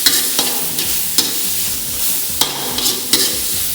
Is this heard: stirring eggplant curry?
yes